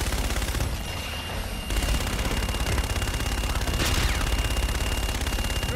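A fire support strike lands on a target in the Call of Duty: Infinite Warfare mission Black Sky, rendered as continuous heavy automatic gunfire and rumbling impacts that roll on without pause, loud and dense throughout.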